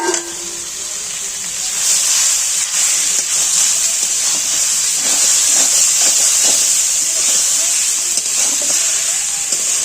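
Boiled water spinach greens hit hot oil and fried onion in a wok, giving off a steady, even sizzling hiss that holds for the whole stretch with no voices.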